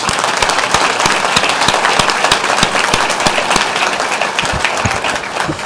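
A room at a school board meeting breaks into a sustained round of applause, a steady wash of many hands with a few sharper individual claps standing out nearby, continuing without talk.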